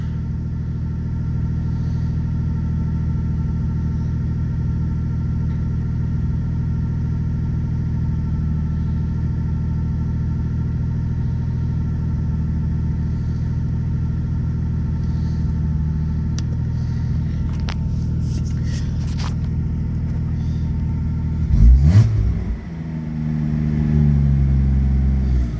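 A project 90s Toyota Supra engine idles with a steady, close, low rumble for a long stretch, then blips sharply in a quick rev before settling into a rougher, louder run.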